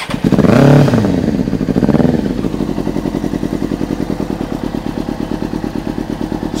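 Motorcycle engine revving loudly twice up close, then settling into a steady, rapid, rattling idle.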